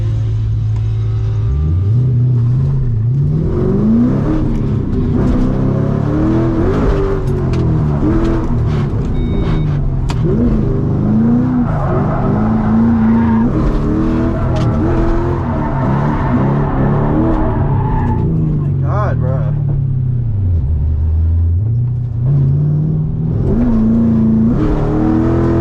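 A Mustang drift car revs hard, its engine note climbing and falling in repeated sweeps, loud and close throughout, with rough tire noise mixed in.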